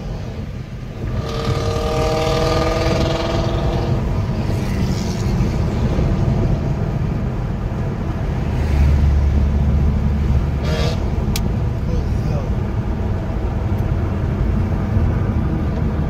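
Corvette V8 engines racing, one running on E85: a loud, continuous engine roar that holds steady and swells around the middle, with no talk.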